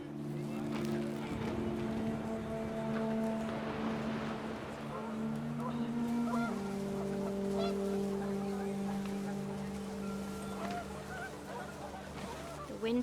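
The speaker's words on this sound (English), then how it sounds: "The wind picked up, and panicked geese appeared and quickly went." Panicked geese honk in the What Remains of Edith Finch video game, sustained overlapping calls layered with music-like tones and wind throughout, loud and continuous.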